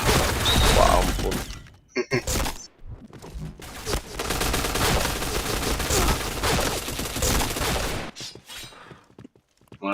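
Rapid gunfire in the shooter game Point Blank, dense automatic bursts with short gaps, loud and near, mixed with brief impact clatter and faint talk.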